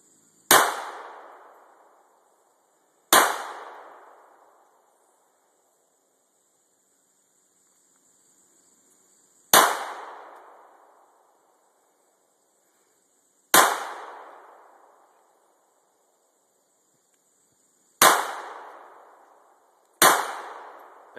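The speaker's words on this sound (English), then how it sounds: "Scott firing his PK380" A Walther PK380 pistol fires six single shots at uneven intervals, each a sharp loud crack with a decaying echo outdoors, separated by silence.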